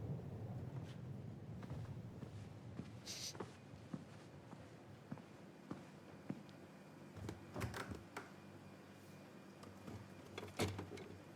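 Storm in the video game Tell Me Why, a low steady rumble with scattered cracks and sharp bursts of thunder, loud and close, with no talking.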